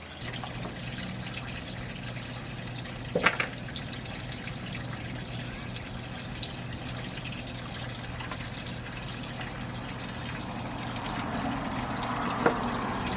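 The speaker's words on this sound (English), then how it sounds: "So I'm going to rinse off the media in this tank water." Aquarium filter media, a year uncleaned, sloshed and rinsed in a bucket of tank water, giving a soft continuous trickle and splash with a couple of sharper plops, close by and fairly quiet.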